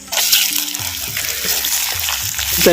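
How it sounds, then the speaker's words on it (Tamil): Chopped Indian gooseberries sizzle steadily in hot oil in a pan, with occasional stirring clatter over a continuous close, moderately loud frying hiss. "நெல்லிக்காய் கனியை அப்படியே எண்ணெயில் நல்லா அப்படியே வறுத்துக்கிறோம்"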